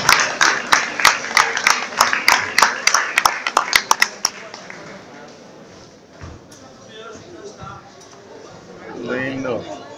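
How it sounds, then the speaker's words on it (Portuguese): Scattered clapping from a small crowd at a boxing match at Arena Matosinhos, a run of sharp, fairly loud claps over about four seconds that fade into murmuring chatter and voices. "Uma grande salva de palmas."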